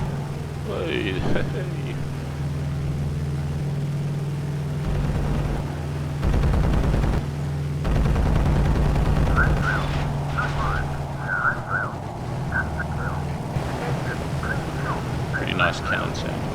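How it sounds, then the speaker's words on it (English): Bursts of rapid cannon fire from an aircraft in IL-2 Sturmovik: Cliffs of Dover Blitz Edition over a steady low engine drone, with a few sharp repeated shots toward the end. "Pretty nice cannon sound."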